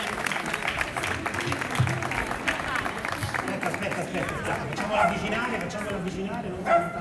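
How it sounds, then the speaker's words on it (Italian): Outdoor audience at a flower-competition award ceremony in Pescasseroli claps in a dense, steady patter for several seconds, with voices talking over it. "Applauso"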